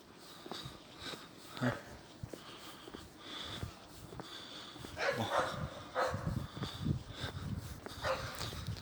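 A dog barks and huffs amid rustling outdoor noise, a few short bursts that grow busier toward the end.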